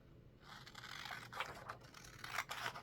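Scissors slice through a folded stack of old book pages, a series of crisp, close scraping snips with papery rasp, quiet and without talk.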